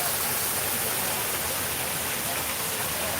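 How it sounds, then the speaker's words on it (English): A small waterfall in a park produces a constant broadband rush of falling water, steady and fairly close, with no pauses or voices. "there is a nice little waterfall down here"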